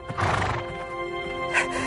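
A horse whinnies loudly and close by in the animated series Grand Galop, the neigh rising and falling over about two seconds with faint hoof sounds underneath.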